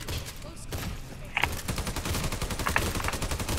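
Rapid gunfire from a PVE-BEASTS video game in Pripyat rattles steadily at moderate loudness, with a couple of sharper impacts standing out over the continuous bursts.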